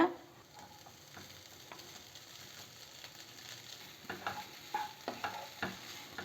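Cooked rice is stirred into fried peanuts and capsicum in a pan. A faint background sizzle runs under soft scraping strokes that grow into a firmer, rhythmic mixing toward the end.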